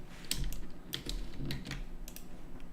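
Computer keyboard keys clack in small bursts of quick taps with short pauses between them, recorded close and quiet, while editing a texture map in 3ds Max.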